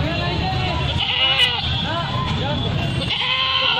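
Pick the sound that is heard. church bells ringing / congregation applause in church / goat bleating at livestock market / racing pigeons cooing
goat bleating at livestock market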